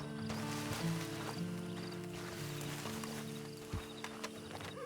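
Horse hooves clip-clop steadily in Red Dead Redemption 2, a close, even walking rhythm set under a sustained tonal backdrop, with no talking.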